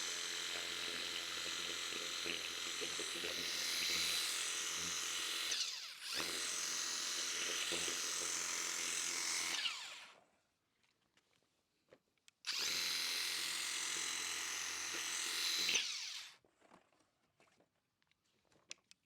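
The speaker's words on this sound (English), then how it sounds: "this really gives you some idea of what this WORX Hydroshot can actually do" A Worx Hydroshot cordless pressure washer blasts grime off a tray in two long, loud, steady bursts of spraying hiss, each several seconds, separated by a short near-silent pause and ending in quiet.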